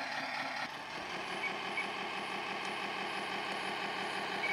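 A radio-controlled 10x10 Optimus Prime replica truck driving with its off-road trailer, with a steady electric motor whine and gear hum at moderate level, running continuously without talk.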